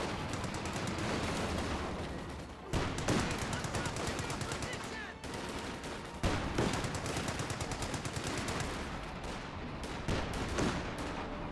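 Company of Heroes 2 battle with Volksgrenadiers under fire: dense, continuous rapid gunfire and machine-gun bursts crackling throughout, with a few heavier impacts punctuating the steady barrage.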